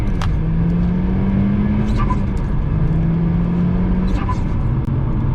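A Volkswagen MK6 Golf R accelerating up a twisty road, engine note rising and falling through gear pulls, heard loud from inside the car with a voice briefly over it.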